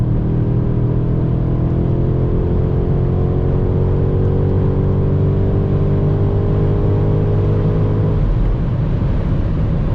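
A 2025 BMW M5 with a hybrid V8 drives fast on the Autobahn, its engine a steady, loud drone with rising harmonic tones as it accelerates, over constant road and wind roar, with the pitch easing toward the end.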